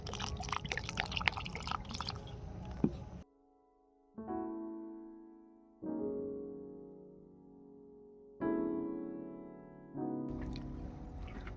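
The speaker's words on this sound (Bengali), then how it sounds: "অল্প অল্প জল দিয়ে আমি ব্যাটারটা বানিয়ে নিচ্ছি" Water goes into pakora batter in small additions, short pours that trickle and splash alongside bursts of mixing noise, with quiet gaps between them.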